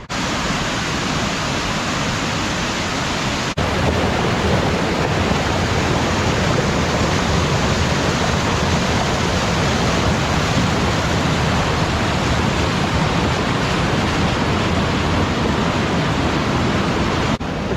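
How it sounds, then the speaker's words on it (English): Steady roaring wash of a waterfall in the Carpathian Mountains of Ukraine, a continuous broadband rush that stays loud and unchanging throughout with no voices. "It's not the most amazing waterfall in the world, but it's very, very pretty."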